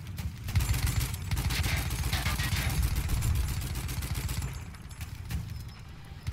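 Rapid bursts of automatic gunfire in Battlefield 1, a dense, loud rattling stream of shots lasting several seconds with little pause, easing slightly near the end, mostly without talk.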